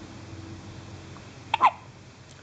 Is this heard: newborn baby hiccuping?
yes